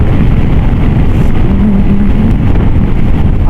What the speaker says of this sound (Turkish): Rüzgar biraz hızlandı yine.